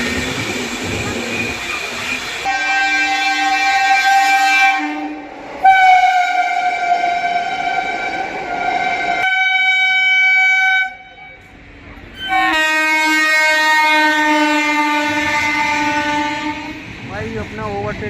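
Indian express trains, including a Rajdhani-class train, overtaking on parallel tracks: loud sustained multi-tone horn blasts ring out in long stretches with brief gaps, over a steady rumble of rolling wheels.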